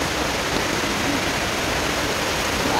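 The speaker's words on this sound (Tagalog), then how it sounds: "Yan ang Daton Waterfalls." Datun Waterfalls at Yangmingshan in Taiwan roar as a dense, steady rush of falling water, loud and constant from start to finish with no voices over it.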